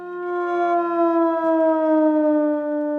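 A wailing air raid siren in Ukraine holds a steady, loud tone that sags slightly in pitch over a few seconds, with no other sound around it.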